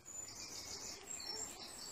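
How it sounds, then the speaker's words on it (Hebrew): Birds chirp and twitter in a forest, with high thin calls repeating over a steady bed of insect-like buzzing, all at a gentle, even level with no voices. "שומעים את ציות הציפורים"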